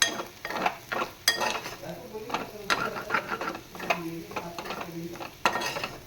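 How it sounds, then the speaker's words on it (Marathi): Raw banana pieces being stirred in hot tempering in a pan, with a steady sizzle and repeated scraping and clinking of the spoon against the metal, while someone talks over it. "त्या फोडणीमध्ये घोळवून घ्यायचे आहेत आपल्याला छान असे"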